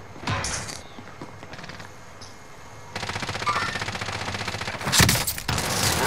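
Bursts of automatic gunfire in a Call of Duty: Modern Warfare match, rapid volleys rattling loud and close, with a sharper, heavier burst near the end.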